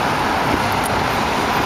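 Heavy traffic rumbles along a busy Paris street, a dense continuous roar of cars and buses close by, steady and loud without clear gaps or speech.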